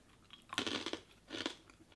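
Crunchy snacks from a healthy snack box being chewed up close in two bursts of crisp crunching, separated by a brief quiet pause, with no talking.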